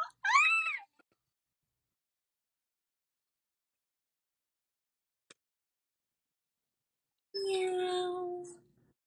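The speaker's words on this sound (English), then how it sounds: "Meow. So cute." A cat meows close by with a short rising-falling call, then a long pause of near silence, then a second longer and lower meow near the end.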